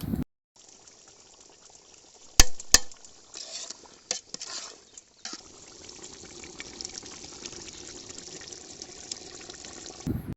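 Water is poured into a cooking pot for a village-style country chicken biryani, a continuous splashing fill that follows a few metallic clinks and knocks, close and fairly loud with no talk.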